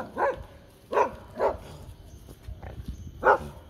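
A dog barks several times in short, sharp yaps, spaced irregularly, fairly close, with quiet background noise between barks.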